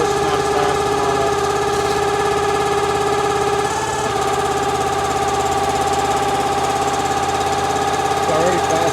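Small engine on a Wolfe Ridge 28 Pro log splitter runs steadily at about quarter throttle, a continuous droning idle with harmonic hum held throughout, with voices faintly present.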